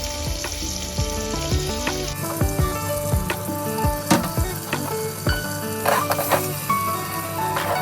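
Raw potatoes frying in hot oil for fried rice, a loud, dense sizzle close by, with scattered clinks and scrapes of stirring on top.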